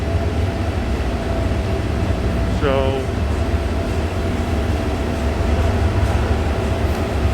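SRT mainline train running through Bangkok, a loud steady rumble of rail travel with a brief squeal sweeping down partway through and a single word spoken.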